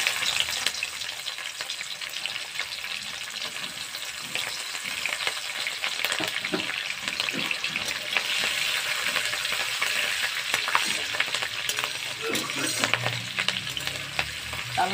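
Green chilies are dropped into hot oil already tempered with black cumin and fenugreek for a katla fish curry, and they crackle and sizzle steadily at moderate loudness, with faint spatter pops throughout.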